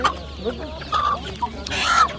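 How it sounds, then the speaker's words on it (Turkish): A chicken clucks in several short bursts, near and fairly loud, at a busy Osmaniye poultry market during turkey season. "Burada bir tavuk görüyorum. Gayet güzel bir tavuk."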